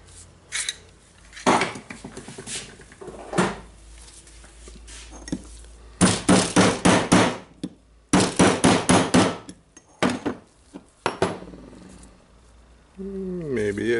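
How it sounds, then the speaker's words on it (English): Sharp metallic hammer strikes on the tool holder parts of a Hitachi Koki DH28PCY rotary hammer, in bursts of rapid clanking knocks separated by pauses, with a brief squeak near the end. "So I will try to knock the parts a little bit with the hammer."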